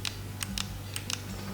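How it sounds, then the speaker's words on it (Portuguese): A Cougar 500M gaming mouse button gives a series of sharp, quiet clicks, about five short ticks spread unevenly over a low background hum, with no talking. "E olha o clique, ouçam o clique dele."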